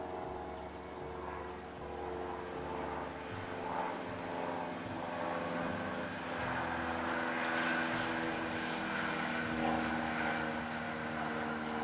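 Steady drone of two airplanes overhead, a broad continuous rumble with engine hum, accompanied by constant insect chirping; no talking.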